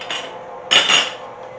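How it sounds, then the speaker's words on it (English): A metal spoon is dug out of a bowl while baking corn cookies, giving a brief cluster of clinks and scrapes against dishes, fairly close, with quieter handling noise before and after. "Let me dig that spoon out real quick"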